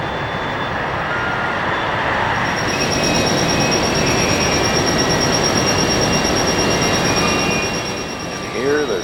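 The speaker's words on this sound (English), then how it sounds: "The squealing you're hearing is the railroad car's wheels squealing against the rails." Loaded coal railroad cars beneath a mine building in Appalachia, their steel wheels grinding and squealing against the rails in a loud, sustained screech with a rumbling undertone that fades slightly near the end.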